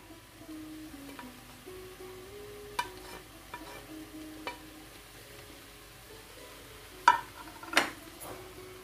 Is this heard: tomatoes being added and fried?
yes